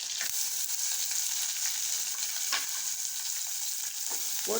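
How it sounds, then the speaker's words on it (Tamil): Chopped onion added to mustard seeds tempering in a hot pan sizzles with a constant bright hiss, broken by a few soft scrapes of stirring, close up with no talking. "அதுக்கப்புறம் நம்ம நறுக்கிய வெங்காயத்தை போடும்"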